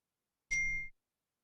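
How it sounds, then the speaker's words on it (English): Computer notification ding, a single clean chime that rings briefly and cuts off, alone against silence. "I wish I'd got rid of the notifications at the screen."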